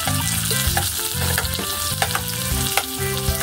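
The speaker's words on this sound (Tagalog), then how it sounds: "At saka lagyan na po natin ng sibuyas." Onions fry in a pan while cooking pork sotanghon, sizzling loudly and continuously close by, with repeated stirring scrapes and clatter running through it, and no speech.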